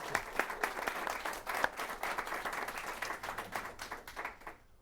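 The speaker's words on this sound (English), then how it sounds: "let's give this incredible team a round of applause" Audience applause for the MAVEN mission team at a NASA news conference after Mars orbit insertion: dense, sustained clapping from a crowd across the whole stretch, fading out at the end.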